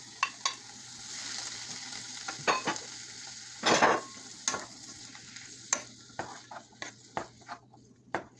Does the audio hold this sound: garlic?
yes